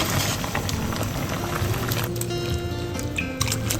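Steady bubbling and gurgling of water at a rolling boil in a pot for blanching pan-fried wild Nostoc, continuous and close, with no voices.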